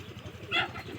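Pigeons give a run of low, rhythmic coos close by, with a brief brighter call in the middle of the short stretch.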